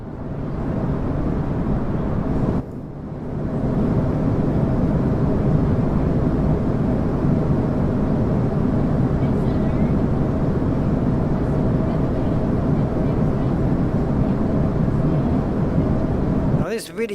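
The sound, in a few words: Airbus A320 cabin ambience in flight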